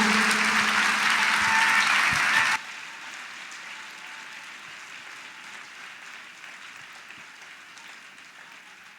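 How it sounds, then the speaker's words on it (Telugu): Loud applause from a church congregation at a Sunday worship service, a dense burst of clapping for about two and a half seconds that then cuts off, leaving a quiet room tone. "చప్పట్లు కొడుతూ బిగ్గరగా."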